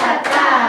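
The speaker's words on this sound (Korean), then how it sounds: "맞았다는 박수로" Children clapping their hands together in a classroom-style activity, a brief, close burst of rapid claps.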